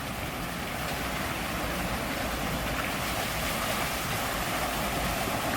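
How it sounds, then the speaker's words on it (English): Water pouring and splashing from a Fantasia-themed fountain with ostriches at a resort, a steady broadband rush that stays loud and even throughout, with no voices over it. "It's kind of a slightly smaller splash."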